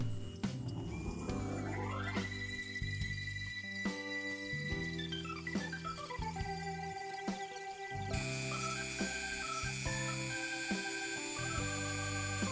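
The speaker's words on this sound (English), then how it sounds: "Now we'll attach this cutter to separate the legs and get rid of bulk." A rotary tool with a cutter carves a small wooden beagle figure, a whining motor whose pitch sweeps up and down as it bogs into the wood, steady and close with no talk.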